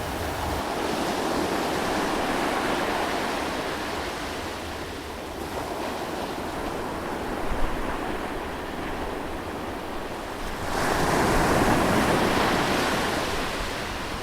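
Loud ocean waves roar and crash continuously, a dense, steady surf wash with a surge in the final few seconds, no voices.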